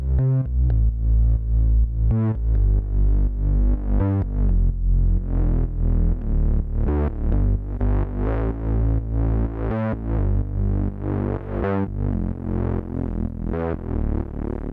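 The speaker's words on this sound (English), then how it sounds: "the sub here, or the bass, is actually from the Moog" Deep Moog synthesizer sub bass drives a dense, loud electronic track, with a sustained low-end throb under repeating punchy hits and layered synth tones.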